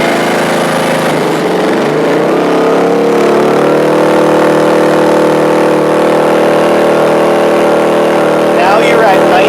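A Ryobi 1800 gas inverter generator runs close by, its engine note rising from idle as a 1500 watt load comes on and then holding a steady, loud drone.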